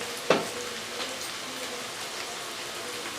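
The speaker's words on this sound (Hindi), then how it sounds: "प्याज भुन रहा है।" Onions with black pepper and turmeric fry in a fish karahi pan, giving a soft, steady crackling sizzle after one sharp knock near the start, fairly faint and close, with no talking.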